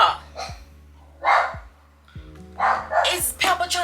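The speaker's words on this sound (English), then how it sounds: "Why is my dog barking?" A pet dog named Peppa barks indoors in several sharp, loud bursts spaced apart, with a steady low hum underneath.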